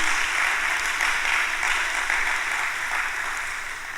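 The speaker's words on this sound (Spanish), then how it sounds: "Démosle fuerte ese aplauso al Señor" Sustained crowd applause at a church worship service, dense and steady clapping from many hands filling the whole stretch, easing slightly toward the end.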